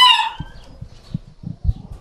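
Hens on an organic free-range egg farm, with a brief crow-like call at the start followed by scattered low clucks and bird noises at close range, no talking.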